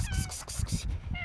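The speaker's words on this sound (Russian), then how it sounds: "Вот коты бегают вокруг меня." Several cats meow close by as they circle the person filming outdoors, giving short repeated cries over a low, steady background rumble.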